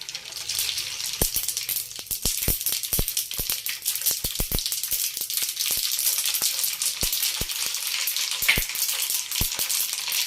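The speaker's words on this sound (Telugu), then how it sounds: "నూనె వేడైందండి, ఆవాలు వేసుకుందాం" Small mustard seeds spluttering in hot oil while making cucumber avakaya pickle, a continuous close sizzle broken by many sharp popping crackles at irregular intervals.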